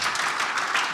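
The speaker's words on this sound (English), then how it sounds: "I think the speakers have deserved an applause" Dense audience applause for the speakers at a legal education event, a close, continuous wash of many hands clapping with no pauses.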